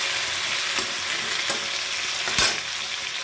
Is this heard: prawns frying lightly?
yes